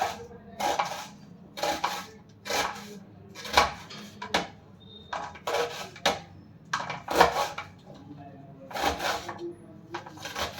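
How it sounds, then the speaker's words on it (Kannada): A knife chopping onions on a wooden board, a close run of sharp repeated thuds in uneven bursts with brief pauses between them. "ಈರುಳ್ಳಿ ಕಟ್ ಮಾಡ್ಕೊತಾ ಇದ್ದೀನಿ"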